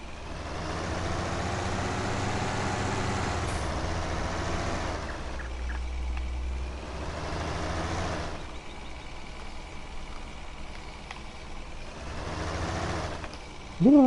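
The engine of an older Ursus 1604 tractor in Farming Simulator 19 drones steadily at a constant pitch for the whole stretch, loud and continuous, with a few small shifts in tone.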